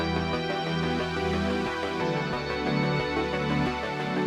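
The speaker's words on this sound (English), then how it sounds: "So all this comes together in a way to make this really beautiful, lush wall of sound like this." Layered synthwave synthesizers build a lush, dense wall of sound, with sustained pads, stacked harmonics and a steady low end playing continuously and loud, with no voices.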